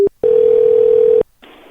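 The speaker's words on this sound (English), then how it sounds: "that was more like hanging up the phone" A telephone line gives a short beep, then a steady, loud, continuous dial tone for about a second after the call is hung up, followed by a brief burst of faint line noise.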